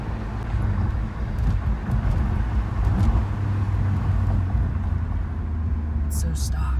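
Mitsubishi Lancer Evo X with a manual gearbox, stock, driving on the road: a steady low engine hum and road noise inside the cabin, with people talking over it.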